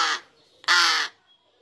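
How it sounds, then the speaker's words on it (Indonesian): A large Indonesian crow, a young bird recorded near Bandung, gives two loud, close, harsh caws separated by a short pause. "Nih bos, jenis gaok ya, gagak besar."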